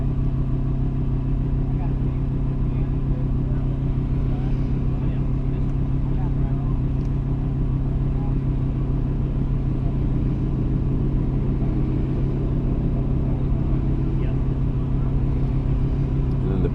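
An Audi A3 e-tron accelerates hard on the Thunderhill race track, giving a steady, close engine and road rumble that holds without a break across the whole stretch.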